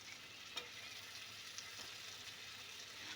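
Chicken curry pieces fry in spice masala with a soft, continuous sizzle and occasional faint stirring knocks, steady and fairly quiet with no voices.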